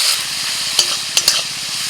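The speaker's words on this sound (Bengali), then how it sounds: "টমেটোটাকে ভালো করে ভেজে নিতে হবে যতক্ষণ না টমেটোটা গলে যাচ্ছে" Chopped tomatoes fry in a pan with a steady, close sizzle, broken by a few sharp scrapes of a spatula against the metal.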